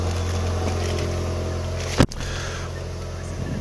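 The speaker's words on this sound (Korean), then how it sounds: "GTI 엔진 시동음 소리가 우렁찹니다" Volkswagen Golf GTI engine firing up with a single loud burst of cranking and catch, then settling into a steady idle hum inside a steady cabin background.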